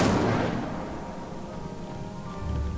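The Incendio fire spell in Hogwarts Legacy bursts with a loud booming whoosh at the start, then fades into a rumbling fiery crackle that swells again slightly at the end.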